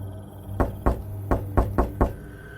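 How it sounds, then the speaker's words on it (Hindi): Someone knocking on a window in a spooky cartoon scene at night: six sharp raps in an uneven rhythm, close and clear over a low steady hum. "अचानक खिड़की पर किसी ने दस्तक दी।"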